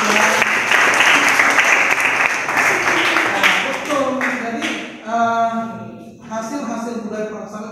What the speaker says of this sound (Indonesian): kasih aplaus untuk Mas